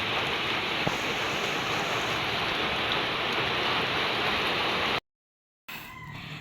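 Steady rain pours down outdoors at a family home, a dense, even hiss that holds for about five seconds before cutting out briefly and resuming.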